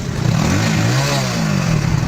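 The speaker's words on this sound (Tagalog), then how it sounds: "pinaandar ni Marcelo ang kanyang motor" A water-fuel powered motorcycle engine runs steadily at close range, a loud continuous mid-low drone with slight pitch swells and no talk over it.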